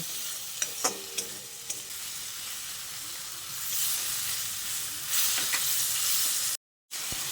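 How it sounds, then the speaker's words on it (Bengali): Spice paste with tomato being stir-fried in a pan, giving a steady close sizzle with bursts of scraping stirs. A brief silence falls near the end. "যদি মশলাটা শুকিয়ে আসে তাহলে আরও অল্প অল্প জল দেব আর এইভাবে কষাতে থাকব"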